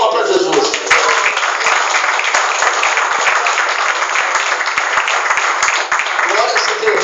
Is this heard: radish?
no